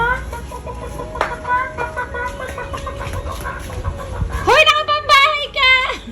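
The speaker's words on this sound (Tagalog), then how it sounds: "May naliligaw na manok sa hardin ni Lola May." A chicken clucks in a garden amid background chatter, then a burst of sharper, louder squawking calls near the end.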